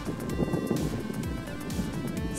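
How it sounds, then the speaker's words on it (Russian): Light wind buffets a microphone outdoors during a small drone flight, a steady rushing roar with gusty rumbles, and no voices. "Сейчас дует небольшой ветер,"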